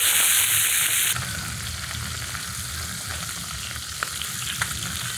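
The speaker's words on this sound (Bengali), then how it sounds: "প্রথম কড়াইয়ের মাছগুলো ভাজা হয়ে গেছে, নামিয়ে দিয়ে বাকিগুলো ভেজে নিই" Large tengra fish frying in hot oil in a kadai, a dense steady sizzle with a brief bright hiss at the start and occasional pops, close and alone.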